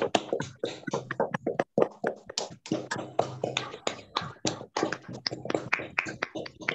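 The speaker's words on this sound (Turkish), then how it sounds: "3, 2, 1, alkışlıyoruz." Online participants clap at home on their webcams after a three-two-one countdown, giving a scattered burst of sharp, uneven hand claps and taps from many separate sources, fairly close and dry, continuing steadily with no talking.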